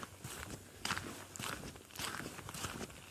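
Footsteps crunch through leaves and brush while walking in the woods at night, a steady run of soft, close, rustling steps at an unhurried pace, fairly quiet, with no talking.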